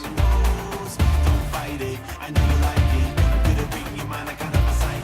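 Deep, muffled low-end thumps pulse in a steady beat, the music stripped to a rumbling bass with little clarity above it.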